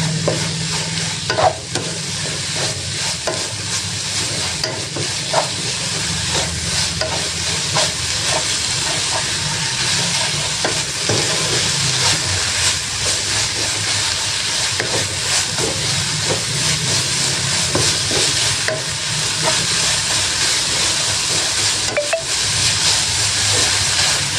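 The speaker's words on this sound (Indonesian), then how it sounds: "Ini tumis sampai tobeknya layu udah ya." Shredded vegetable filling for stuffed tofu sizzles and crackles steadily in a nonstick pan as it is stir-fried, with the scrape and clatter of a spatula stirring throughout.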